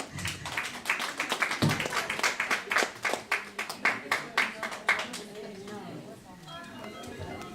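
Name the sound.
audience applause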